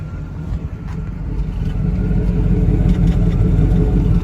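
Stock engine of a 1977 Pontiac Trans Am running at a steady, low, smooth idle, close by and fairly loud but even, with no revving or talk over it.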